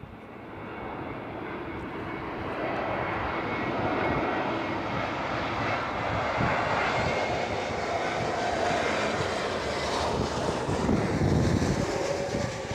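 An airliner on a VOR approach into Gold Coast Airport roars steadily, its engine noise swelling gradually from a distant rumble to a loud, broadband drone as it nears, with no voices.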